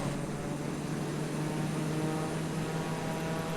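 Aircraft engine throttling up in Microsoft Flight Simulator, a steady droning propeller-plane hum with a strong low tone holding constant and loud throughout, no talking.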